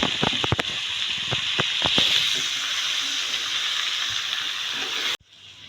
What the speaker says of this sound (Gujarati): સાત થી 8 મિનિટ આપણે કોબીને તળવા દીધી એ થઈ ગઈ છે